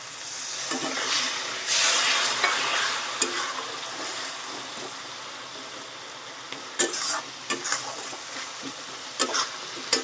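A splash of water hits frying spice paste for crab curry, setting off a bright, loud sizzle that settles into steady frying hiss, with intermittent scraping stirs and utensil knocks close by.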